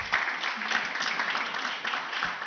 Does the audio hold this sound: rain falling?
no